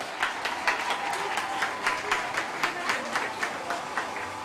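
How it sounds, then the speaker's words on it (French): An audience at an academic excellence awards day in Abidjan applauds the young women, a steady mid-level patter of clapping with regular sharper claps standing out, no voices over it. "Je voudrais qu'on acclame les jeunes filles."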